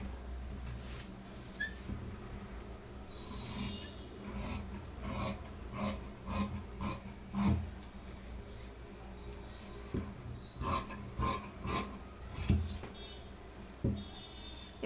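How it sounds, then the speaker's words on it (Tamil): Scissors cut through fabric to shape a sleeve for tailoring, producing a series of quiet, close rasping snips in an irregular rhythm. "இப்போ நம்ம கட் பண்ணிக்கலாம்."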